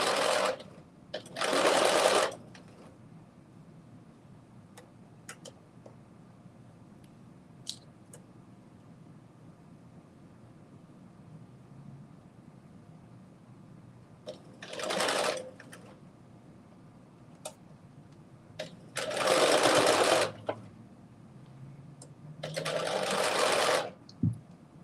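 A sewing machine stitching pleated fabric runs in short loud bursts of rapid whirring, about four separate runs with quiet pauses between, heard close up.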